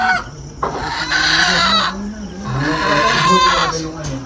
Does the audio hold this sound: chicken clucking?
yes